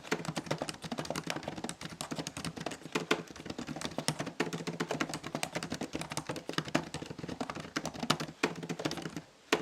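Steady, fast typing on the keyboard of an ASUS Vivobook 16X M1603Q laptop, dense overlapping key clicks running continuously at close range with no voices.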